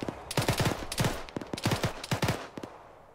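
Gunfire from the military shooter video game Arma 3 comes in rapid, sharp bursts of several shots each, loud and close, separated by short pauses.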